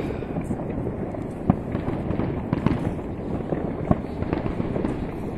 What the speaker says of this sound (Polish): Za chwilę nastąpi pokaz ogni sztucznych z angielska fajerwerków.